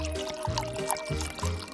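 Water is poured from a bottle into a mixture, a close, continuous gurgling splash with uneven pulses across a couple of seconds and no speech.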